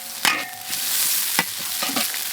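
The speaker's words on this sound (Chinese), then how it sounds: "要炒香这豆瓣酱" Doubanjiang chili bean paste stir-fried in a wok, with a steady close sizzle broken by several sharp scraping stirs of the spatula.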